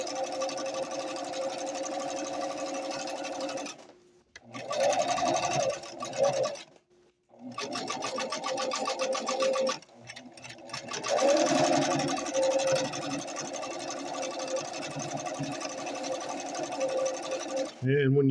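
A Singer 362 Fashion Mate sewing machine stitches fabric in a close, steady rapid whir that runs in bursts, briefly pausing and restarting several times before continuing to the end.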